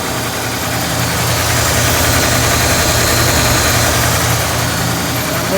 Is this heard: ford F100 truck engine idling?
yes